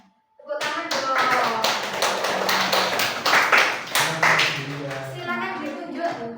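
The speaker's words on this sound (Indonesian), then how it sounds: "Tepuk tangan dong." Classroom clapping from a group of teachers and students in a school session, a dense burst of hand claps with a few sharper taps standing out, mixed with talking and voices throughout.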